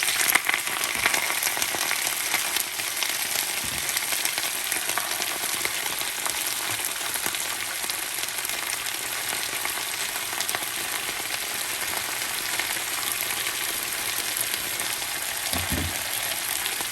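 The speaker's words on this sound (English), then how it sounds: "I've added some olive oil, or you can use vegetable oil or whichever you have. I'm just gonna add my spinach to the skillet." Spinach sautés in olive oil in a skillet, a continuous even hiss of frying that stays steady and close for the whole stretch, with a couple of faint thumps and no voices.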